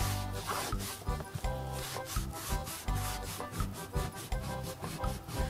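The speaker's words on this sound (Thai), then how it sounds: "ถูเรื่อยๆนะ" Stained wood is rubbed steadily to lift deep-set stains, giving a continuous, dense scrubbing and rasping texture with rapid rhythmic strokes throughout and no voices.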